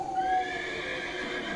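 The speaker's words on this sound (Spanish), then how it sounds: "Desde el primer aullido los caballos comenzaron a piafar y a inquietarse" Horses whinny with a long, high, wavering call, close and loud against a steady background hum, used as an audiobook sound effect.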